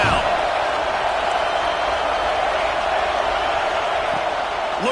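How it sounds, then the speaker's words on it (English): A stadium crowd in a football video game roars on third down, a steady, loud wall of cheering that holds unbroken the whole time. "Decibels rising as the crowd gets behind this defense on 3rd down"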